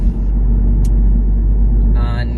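Audi S3 8V facelift with a Milltek non-resonated catback exhaust merging onto a motorway, giving a steady, loud low engine and road rumble throughout, with a brief higher whoosh near the end.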